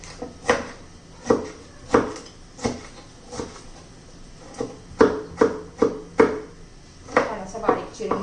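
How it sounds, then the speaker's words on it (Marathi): A knife chops garlic and tomato very finely on a wooden board, making a run of sharp, uneven taps close by with short gaps between them, and nobody talks. "आता फ्लावर आपला 5 मिनिटं शिजेपर्यंत आपण हा लसूण आणि टोमॅटो चिरून घेऊया एकदम बारीक"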